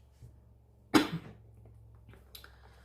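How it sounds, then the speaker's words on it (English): A single short cough sounds close by, followed by a softer second cough, over a quiet low hum. "Sorry about my coughing here and there,"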